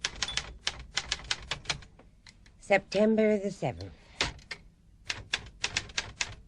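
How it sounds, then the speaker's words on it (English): A typewriter clatters with rapid, sharp keystrokes in bursts, broken midway by a carriage-return ding and a rasping slide, with a voice speaking briefly at the same moment. "Expensive typewriter."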